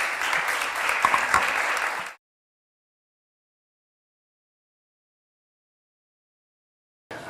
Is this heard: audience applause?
yes